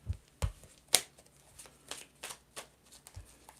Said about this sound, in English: You don't want me to shuffle no more?